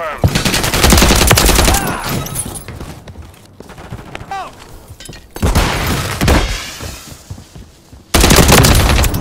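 Dense automatic gunfire in Call of Duty Modern Warfare III beta gameplay: loud, rapid bursts and sustained volleys with brief lulls and sharp impacts, while game voices and callouts sound over the shooting.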